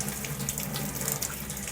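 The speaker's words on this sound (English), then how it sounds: "that dedicated faucet just running" Water runs at full force from a dedicated faucet fed by a Kinetico K5 filtration system after a filter change, a steady close rushing splash into the sink with no talk.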